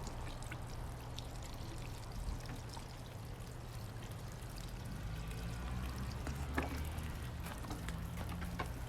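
Water pours steadily onto the soil around a potted tomato plant, a quiet continuous splashing trickle that lasts throughout without pause.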